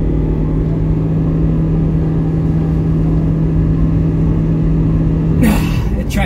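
A Smart car accelerates from a standstill toward 60, its engine a steady, strained drone with no gear changes, heard from inside the cabin and ending in a short burst of noise.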